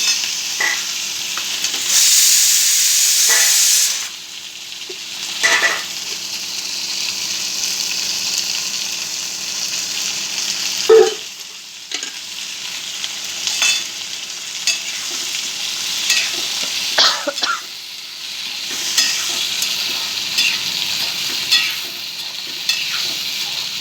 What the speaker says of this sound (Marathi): तर चांगली भाजून घ्यायची तेलात.